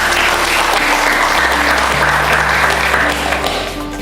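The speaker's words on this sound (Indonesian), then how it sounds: "Tepuk tangan dulu." An audience at a talk with a champion school volleyball team from SMK Nasional Malang breaks into loud, dense applause that holds for several seconds, with a low steady hum beneath it.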